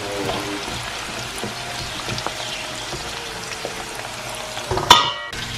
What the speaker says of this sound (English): So we'll get ready to fry this up, and we'll have our French fries at home.